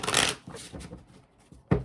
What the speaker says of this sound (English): Shuffle these, and then we'll do pile number 2.